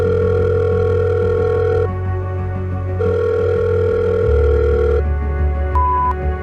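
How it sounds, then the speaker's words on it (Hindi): A call dialed from a mobile phone set to speakerphone, giving steady electronic ringing tones in long on-and-off bursts, clear and alone with no talk. "विवान ने अपने फोन से एक कॉल मिलाई और मोबाइल स्पीकर पर कर दिया"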